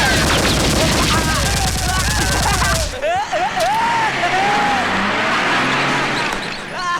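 Gunfire in a Hindi film scene: a dense, loud burst of rapid shots for about three seconds, cut off abruptly and followed by a noisy, busy soundtrack with whistling, swooping tones.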